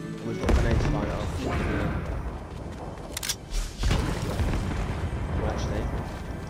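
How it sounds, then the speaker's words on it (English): Grenades exploding in the Fortnite Battle Royale video game: a dense rumbling barrage of booms and blasts, with one sharp burst partway through, under a voice talking over the gameplay. "And we've got grenades flying off."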